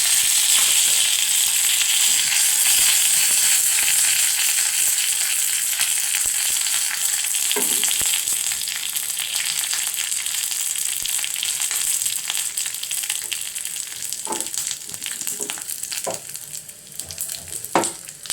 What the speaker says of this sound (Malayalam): കടുക് പൊട്ടുമ്പോഴത്തേക്കും ഉണക്കമുളകും കറിവേപ്പിലയും ഇട്ട് കൊടുക്കാം